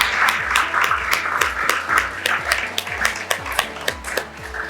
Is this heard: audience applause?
yes